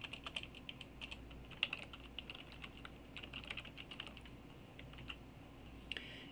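Computer keyboard being typed on at a quiet, close distance, an irregular run of light key clicks with a couple of sharper taps, as a username and password are entered.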